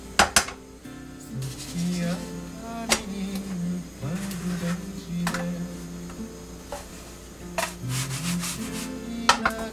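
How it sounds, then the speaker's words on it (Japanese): Flatbread made from scalded-water dough slides and scrapes in a frying pan, giving soft rubbing swishes with sharp clicks and knocks of a utensil against the pan, close and clear, with no talk. "マジでフライパンスルスル"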